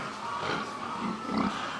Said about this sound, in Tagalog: Durok pitrin po yung lahi ng mga baboy po namin.